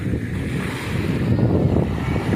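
Rough, unsettled sea surges against the shore in a loud, continuous roar of surf that swells slightly toward the end, with wind and no voices.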